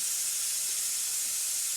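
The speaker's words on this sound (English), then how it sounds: "You can hear some hissing in the background" A steady, loud hiss of escaping steam from a pressure cooker cooking corned beef in a log cabin fills the whole clip without a break, bright and airy, with no talking.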